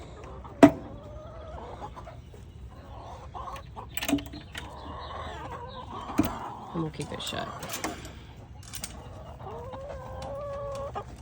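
Backyard chickens clucking and crowing in a coop near a farm tractor, with repeated close cackles and squawks scattered across the stretch, mixed with someone talking and a few sharp knocks.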